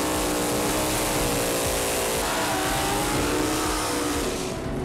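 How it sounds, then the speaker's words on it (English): Two drag racing cars doing burnouts: loud, sustained engine roar with screeching tire noise filling the whole stretch, steady and close, with a slight change partway through. "Let's see the burnouts, boys"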